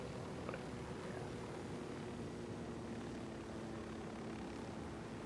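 Helicopter flying in the video game Ghost Recon Wildlands, a faint, steady, continuous rotor and engine drone with no talk over it.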